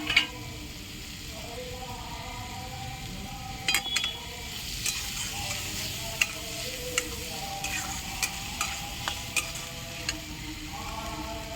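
Onion and tomato fry in a pan over a traditional wood-fired stove. A steady soft sizzle runs throughout, punctuated by a dozen sharp spoon clicks and scrapes against the pan as the mixture is stirred.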